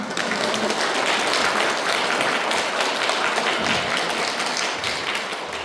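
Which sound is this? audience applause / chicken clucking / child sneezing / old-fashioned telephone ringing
audience applause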